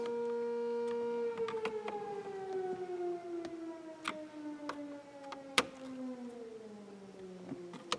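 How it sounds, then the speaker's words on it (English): A town's noon whistle, a civil-defense-style siren, winds down slowly in a long falling tone heard from a distance, while sharp ticks and clicks from nearby work on a Buick Roadmaster cut through it. "That's the noon whistle. I don't know why they call it a whistle. It's more like a siren."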